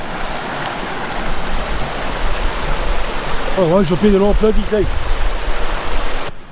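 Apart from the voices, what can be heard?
river flowing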